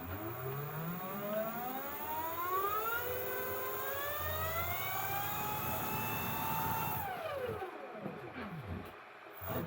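A homemade brushless axial flux motor, 3D printed and machined, runs with a rising and falling whine that sweeps up over several seconds, holds high, then winds down near the end.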